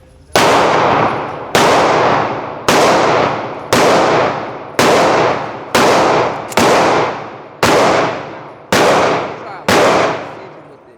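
Ten loud, sharp pistol shots from a Glock 40 Gen4 firing bronze ammunition, evenly spaced about a second apart outdoors, each crack trailing off in a short decaying echo.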